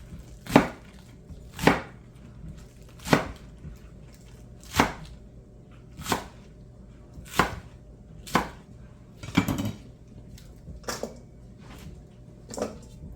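Carrots and scallions for kimchi are chopped with a knife on a board, about a dozen sharp, evenly spaced thuds at a slow, steady pace, close and clear with no talking.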